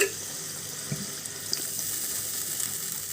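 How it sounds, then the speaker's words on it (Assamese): Water pours steadily from a tap into a pot of potatoes, a close, continuous splashing flow with faint clinks, no voices. "এতিয়া মই ইয়াতে আৰু অকণমান পানী দি আলুখিনি সিজাই ল'ম"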